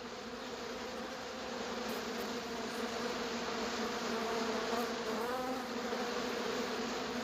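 Cartoon bees let out from a hive buzz as a dense swarm, a continuous droning hum with layered tones that holds steady and fairly loud from start to finish, with no voices.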